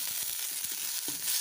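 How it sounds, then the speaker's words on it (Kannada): Chopped tomatoes sizzling in hot oil for a brinjal curry, a steady hissing fry with soft stirring taps underneath, quiet and close, with no talking. "ಇವಾಗ 2 ಟೊಮೆಟೊವನ್ನು ಸಣ್ಣದಾಗಿ ಕತ್ತರಿಸಿ ಅದಕ್ಕೆ ಸೇರಿಸಿಕೊಳ್ತಿದ್ದೇನೆ"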